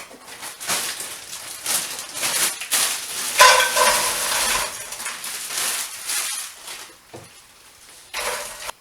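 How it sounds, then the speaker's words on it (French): Butternut squash sizzles in a lightly oiled frying pan, a steady hiss with occasional clinks and stirring, loud and close, briefly dropping out near the end. "Faites chauffer une poêle préalablement légèrement huilée et insérez votre butternut"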